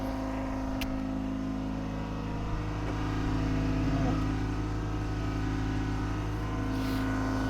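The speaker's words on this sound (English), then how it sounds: "Compressor's kicked in." An air compressor hums steadily with a constant mechanical drone during brake work on a Suzuki GSXR 750 motorbike, close and continuous, with someone talking briefly.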